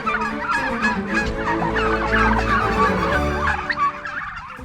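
Dense chorus of turkeys gobbling continuously on a large turkey farm, many birds calling over one another at close range, loud and steady throughout with no talk.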